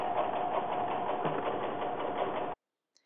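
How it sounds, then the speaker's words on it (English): A Brother 990D sewing machine runs steadily, stitching the inseam of fleece pajamas in a close, continuous whir that stops abruptly after about two and a half seconds. "begin sewing down the inseam, taking time to remove the pins as you go along"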